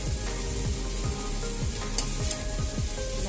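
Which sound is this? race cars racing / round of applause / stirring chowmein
stirring chowmein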